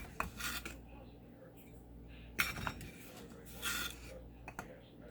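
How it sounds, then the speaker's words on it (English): A spoon scrapes and rubs as a cup of sugar is stirred into blackberries in a bowl, with soft intermittent gritty strokes and clinks, fairly quiet and close. "I'm going to use 1 cup of sugar in my blackberries and mix it up."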